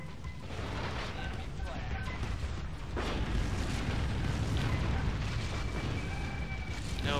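Booming bursts of anti-aircraft turret fire in the game Tribes Aerial Assault, a loud continuous rumble of explosions with a sharper blast near the three-second mark, over heavy game noise.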